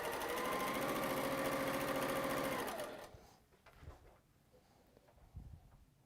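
A sewing machine runs at speed while stitching fabric, a loud rapid mechanical whirr that stops abruptly about halfway, leaving quiet room sounds and faint knocks.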